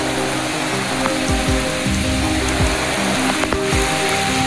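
Heavy rain pours down during a typhoon, a steady, loud broadband hiss of drops hitting surfaces, with scattered low thumps and knocks beneath it and no voices.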